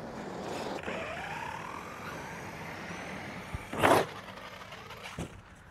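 A Traxxas Sledge RC truck whines along and drives up a ramp, its motor pitch rising and falling, then lands with a sharp close thump and a smaller knock after.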